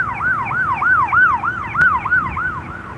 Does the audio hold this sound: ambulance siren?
yes